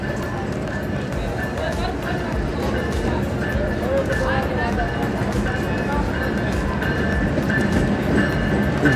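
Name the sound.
Jaffar Express train arriving at Shikarpur railway station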